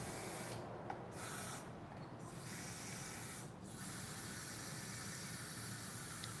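Gold spray paint hissing from a can in a steady, continuous spray at close range, with a few brief pauses, set during a pink, gold and white resin pour.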